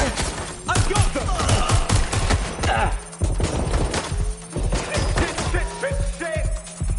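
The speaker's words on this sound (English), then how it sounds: "I'm taking fire!" Rapid video game gunfire in Watch Dogs: Legion, with dense bursts of automatic shots and impacts crackling almost continuously, loud and close, while a voice speaks over the action.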